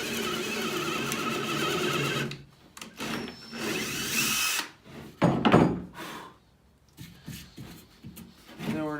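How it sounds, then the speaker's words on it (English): A power drill bores a hole about halfway into a block of wood for a custom valet with lamp build, whirring in bursts with pauses between, close and loud with workshop rubbing noises. "we're going to drill a hole down into about halfway through the wood"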